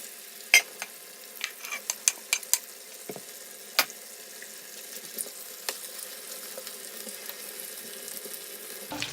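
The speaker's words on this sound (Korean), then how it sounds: "이제 감자를 넣을게요. 조심하세요. 이거 기름 뜨거우니까 튈 수도 있어요." Potatoes fry in hot oil for a Spanish omelette, a soft continuous bubbling broken by scattered sharp pops and clicks of utensils, fairly quiet and close.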